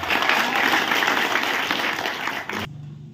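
Applause from an audience at a gathering for a Blitar regency election candidate, dense steady clapping that fills the room and then cuts off abruptly near the end.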